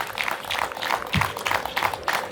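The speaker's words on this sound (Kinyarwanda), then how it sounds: "reka baguha amashyi n'impundu" Wedding guests at a Rwandan marriage ceremony break into applause and ululation, a dense, lively patter of clapping with bursts of high trilling voices throughout.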